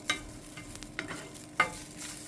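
Fresh coriander is stirred in a hot pan, with soft sizzling under a few sharp spatula scrapes spaced irregularly, close and fairly quiet.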